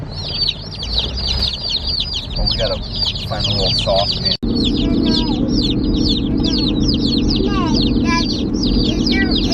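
Meat-bird chickens cluck and peep constantly in a loud, close chorus, with a voice speaking briefly over them.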